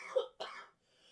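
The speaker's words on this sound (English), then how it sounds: "That wasn't me. That was coughing." Two quick, close coughs in a row, sharp and breathy, followed by brief quiet.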